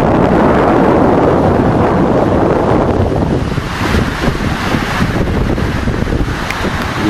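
Steady wind buffets the microphone at a marina on the shore, with surf and small waves washing in beneath, loud and constant with no speech.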